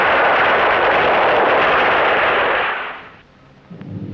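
A missile impact explosion at White Sands Missile Range in 1960, a loud, broad, rumbling blast that holds steady for about three seconds, then fades, followed by faint low rumbling.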